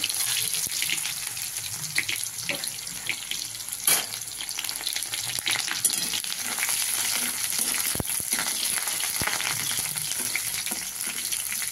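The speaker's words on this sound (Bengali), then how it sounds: "পেঁয়াজ কুচিটা দিয়ে দিচ্ছি তেলে" Chopped onion frying in oil in a pan for a Bengali vegetable and soybean dish, a steady sizzle with occasional stirring clatter and a faint water-like hiss throughout, no talk.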